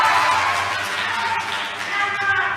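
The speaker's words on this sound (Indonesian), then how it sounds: "Kita berikan tepuk tangan yang meriah." Audience applause at a public debate between regent and deputy regent candidates for Banggai Regency in 2024, a steady dense wash of clapping lasting the whole moment without pause.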